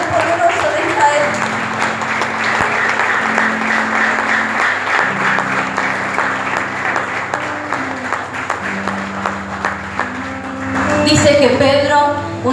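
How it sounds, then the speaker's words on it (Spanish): A church congregation claps in a sustained, rhythmic wash of applause under held organ or keyboard tones, swelling louder near the end with a burst of voices. "Aplaudile fuerte al poderoso de Israel."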